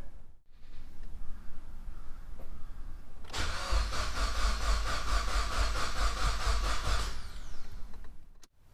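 A Mitsubishi Evo X with its fuel system being depressurised cranks for several seconds with a rapid, rhythmic starter whir, then stops without catching, heard close in a quiet garage with no talk.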